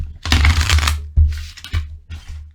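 Tarot cards are shuffled in three quick riffling bursts, close and crisp, with short pauses between them. No voices.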